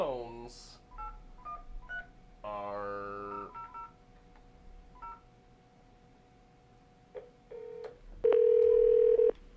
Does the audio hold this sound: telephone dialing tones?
yes